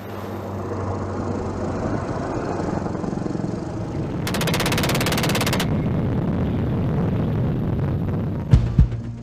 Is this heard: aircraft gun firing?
yes